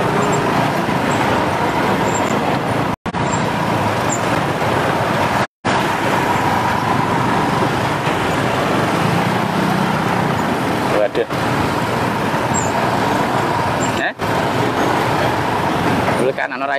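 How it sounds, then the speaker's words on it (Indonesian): A slow traffic jam of large trucks and buses on a road under repair near Juwana, Rembang, gives a continuous loud rumble of engines and road noise, with a person talking over it. "Yang melewati itu mobil-mobil besar semua Lur"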